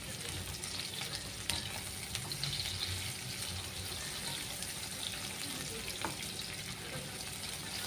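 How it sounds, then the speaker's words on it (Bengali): Onions frying in a pan, a faint, even hiss of oil running steadily throughout with a couple of soft clicks and no voices. "পেঁয়াজটা একটু ভেজে নিচ্ছি।"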